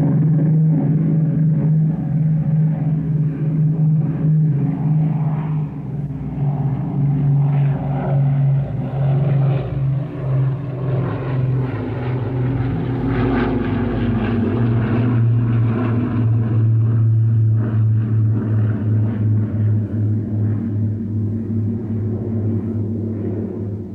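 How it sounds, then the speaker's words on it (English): An Avro Shackleton with four Rolls-Royce Griffon piston engines flies past, giving a heavy, continuous propeller drone that swells slightly midway and holds steady throughout, with no voices. "Powered by four Rolls-Royce Griffin engines, it produces a very distinctive note, different entirely to the Lancaster, as we hear it fly past and fade into the distance."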